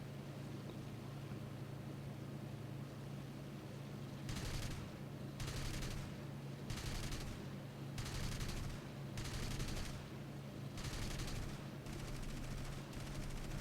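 Bursts of 7.92 mm aircraft machine gun fire in War Thunder crackle in repeated short volleys over a steady engine drone, roughly six bursts spaced a second or so apart.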